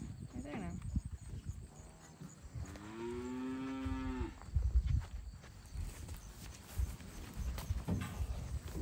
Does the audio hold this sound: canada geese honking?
no